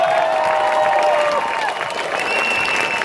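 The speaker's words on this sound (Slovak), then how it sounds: "A potlesk pre olympijského víťaza." A crowd in a town square in Banska Bystrica applauds an Olympic gold medallist, dense clapping with faint cheers and a voice over a loudspeaker carrying through the noise.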